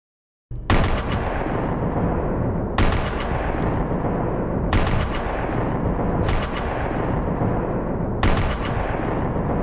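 Repeated loud bursts of gunfire from the film Face/Off, five heavy volleys spaced about two seconds apart, each ringing out and tailing into a dense, booming wash between shots.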